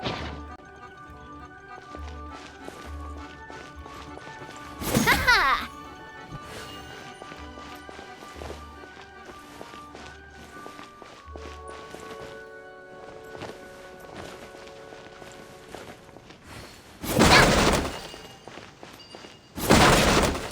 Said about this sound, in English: Can't you destroy the boxes a little more quietly?